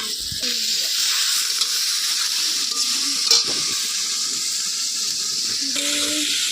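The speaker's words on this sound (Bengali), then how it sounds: "আলু উনানে কড়াইতে দিয়ে দিলাম।" Potatoes fry in a wok on a stove with a steady, close hiss and sizzle that runs throughout, while brief voices speak faintly underneath.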